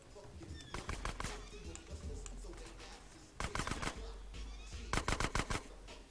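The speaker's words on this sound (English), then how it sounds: "I'm going to shoot it a 7th time, at which point it will catch fire" Rapid gunfire in GTA San Andreas aimed at a car, arriving in several quick bursts of sharp cracks, loud and close, over a low engine hum.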